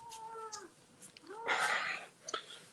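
A cat meows several times at close range, drawn-out wavering calls with a louder, raspier cry in the middle and a short final mew, heard quietly indoors.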